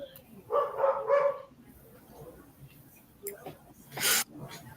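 A couple of short dog barks nearby, followed by a sharp higher yip, with quiet room noise in between.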